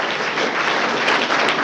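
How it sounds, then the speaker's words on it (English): Audience at a mayoral candidates' meeting claps together, a dense, fairly loud burst of applause lasting under two seconds with no voices over it. "you guys can clap again"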